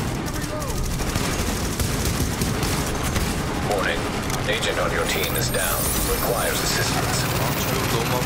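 Sniper rifle fire in The Division rings out amid dense, continuous gunfire and explosive bursts during a chaotic firefight, with a voice talking over the constant noise.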